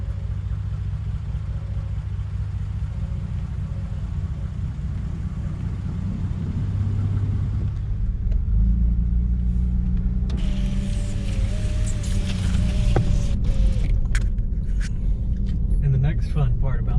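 A Jeep with some kind of mechanical problem drives down a dirt road, its steady low engine rumble and road noise filling the cabin throughout, getting rougher and louder partway through, with a voice talking over it.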